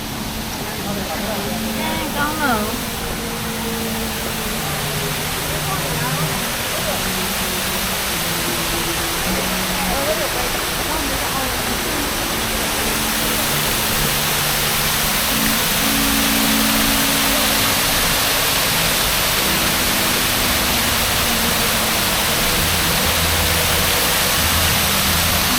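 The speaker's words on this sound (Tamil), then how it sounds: "இங்கே ஒரு அருவி." An indoor waterfall inside a Bangkok shopping mall pours with a constant, loud broadband rush that fills the whole scene, while mall voices and faint tones sit beneath it.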